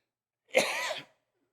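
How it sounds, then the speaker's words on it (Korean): A single dry cough, short and close, with silence before and after. "제가 약간 마른 기침이 있어서 죄송합니다"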